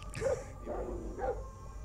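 A couple of muffled, low dog barks or yips at moderate distance over a faint electronic hum, spaced about a second apart.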